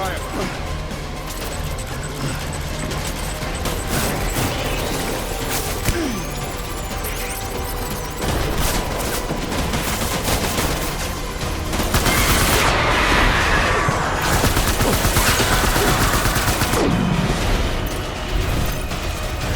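Dense battlefield gunfire from Death Stranding: continuous volleys of rapid shots and machine-gun bursts with crashes and blasts, loud and unbroken throughout, with shouted voices mixed in.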